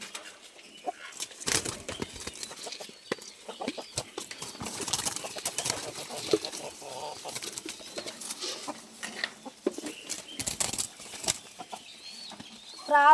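Pigeons coo softly while being fed in an evening feeding routine, with intermittent wing flaps and clucking hens nearby, all faint and scattered with occasional movement noises.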